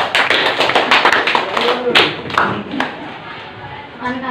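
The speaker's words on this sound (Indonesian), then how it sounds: "Berikan tepuk tangan untuk kelompok Matius" Classroom applause for a student group, with a burst of close, brisk clapping that thins out into a few scattered claps before fading into room murmur.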